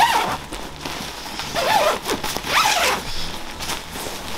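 A zipper on a winter sleeping bag is pulled open in several quick, rasping strokes, close and fairly loud, with no talking.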